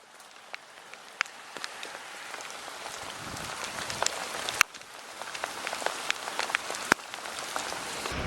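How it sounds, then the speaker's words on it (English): Torrential rain pounds down, a dense, steady hiss of drops striking surfaces with occasional sharper splats and taps close by. "Torrential rain"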